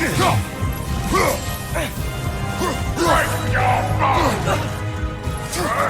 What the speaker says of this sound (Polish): I tłuczemy go dalej ostrzami.